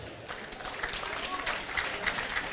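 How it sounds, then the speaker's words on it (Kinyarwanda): Audience applause in a studio during a Rwandan talk show, a steady wash of clapping from a crowd that holds at an even level throughout, fairly close, with no voices rising above it. "Amashyi cyane kuri Haruna"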